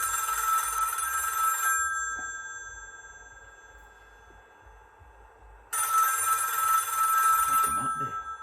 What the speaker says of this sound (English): Not expecting any phone calls.